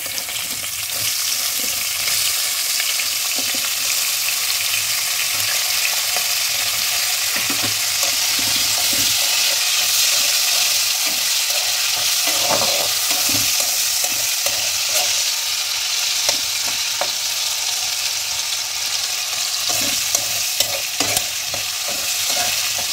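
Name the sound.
small potato pieces frying in oil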